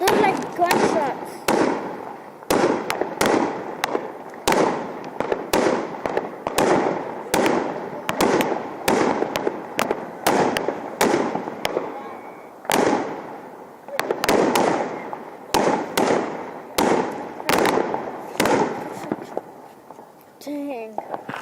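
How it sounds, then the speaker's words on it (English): July 4th fireworks burst overhead in a long run of loud, sharp bangs, around twenty in irregular quick succession with brief gaps between them, and voices come through faintly now and then. "I'm showing you guys, oh my gosh, some fireworks."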